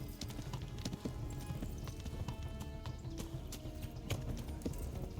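Horse hooves clip-clop in Kingdom Come: Deliverance, a brisk, steady run of close hoofbeats on the ground over a low rumbling backdrop, with occasional faint creaks and rattles.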